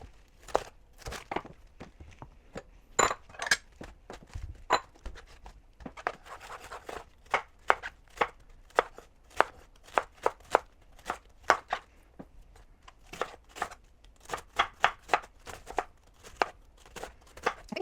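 A knife chops through cabbage on a cutting board for coleslaw, with sharp crisp strokes that come close and clear in uneven bursts, some quick and clustered and some spaced apart, with no talk.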